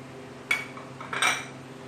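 A spoon clinks and scrapes against a cooking pot while dry spices are stirred into chicken tikka masala, two short metallic bursts over a quiet background hum.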